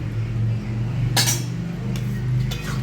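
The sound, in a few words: ladle stirring chana dal in a pot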